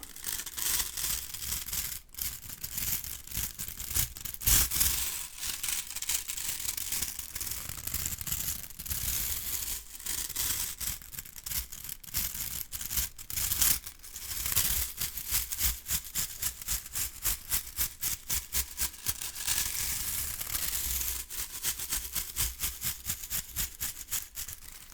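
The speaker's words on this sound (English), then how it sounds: "This is a really stiff bristle bush broom." Dense, scratchy bristles of a stiff bush broom rubbing right against the microphone, a continuous rough brushing texture with sharp crackling strokes throughout, loud and close.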